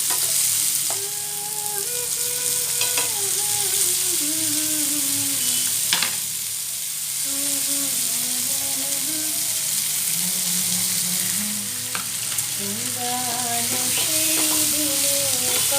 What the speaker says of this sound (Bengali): আরও একটু অল্প পরিমাণ তেল দিয়ে দিলাম, পেঁয়াজ, টমেটো আর লঙ্কা দিয়ে দিলাম।